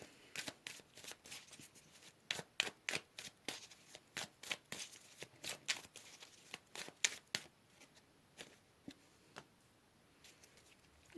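Tarot cards shuffled by hand during a reading, a quick run of crisp riffling flutters and soft slaps close up, thinning toward the end as a card is pulled, quiet and free of speech.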